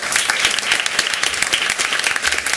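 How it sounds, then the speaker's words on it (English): Loud, dense applause from the audience at a school district board meeting honoring a student, many hands clapping together in a steady, sustained burst with no talk. "Let's give him one more big round of applause."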